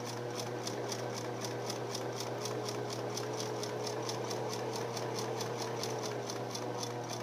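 A sewing machine stitching a fabric seam runs continuously at an even pace, its rapid rhythmic ticking steady and close throughout with a low motor hum beneath.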